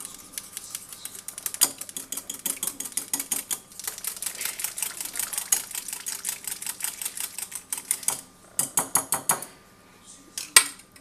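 Egg beaten with a little milk in a bowl for rice pudding: rhythmic clinking taps of a utensil against the bowl, close and steady, pausing briefly before a final few strokes.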